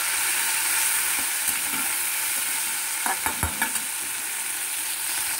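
Soaked raw moong dal tipped into a hot pan and stirred, giving a steady sizzle with a few brief scraping clatters of the spoon partway through, no voices.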